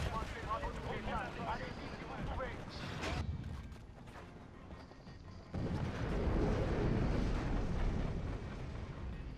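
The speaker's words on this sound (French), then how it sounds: "Je suis monté sur le dos d'un titan et il a explosé." A titan exploding in the video game Titanfall: heavy, rumbling blasts and crashing game effects, the loudest burst swelling up broadly near the end over a dense battle soundscape.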